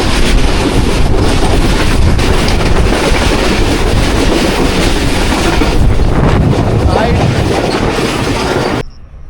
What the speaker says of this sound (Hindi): डाउन की एक और ट्रेन आ रही है जी।